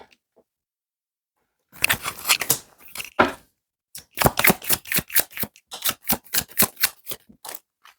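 Tarot cards being shuffled by hand, a short burst of riffling followed by a longer run of quick, evenly spaced card slaps and flutters, close and clear with no talking.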